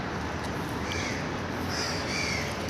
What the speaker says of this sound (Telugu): కాకులు చూసారా?